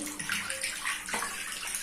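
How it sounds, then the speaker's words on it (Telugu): Water gushes and splashes steadily as it drains out of a bathroom tub after the covers are pulled, a continuous close wash of flowing water with no talking. "ఇదిగోండి నీళ్ళన్నీ బయటకు వస్తున్నాయి చూడండి"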